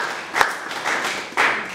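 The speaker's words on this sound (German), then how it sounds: "lass uns Jesus nochmal einen Applaus geben" Applause during a church service, a modest room of hands clapping in uneven bursts, with a sharp clap near the start and a louder swell toward the end.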